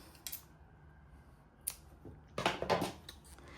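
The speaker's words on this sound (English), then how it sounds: "So I'm going to cut this yarn here." Scissors snip through crochet yarn in a few quiet, separate cuts, with a short burst of sharper snips near the end in a quiet room.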